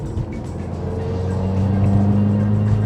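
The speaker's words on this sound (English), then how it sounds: "I'm riding on a fairly bumpy road here and going through a neighborhood" A lowered car rolls along a bumpy neighborhood road, its engine and road noise forming a steady low rumble that grows slightly louder, with no talking.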